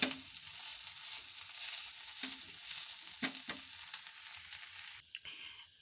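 Chicken shawarma filling fries dry in a pan over a medium flame, a steady soft hiss broken by a few scraping stirs, then the sizzle drops away near the end.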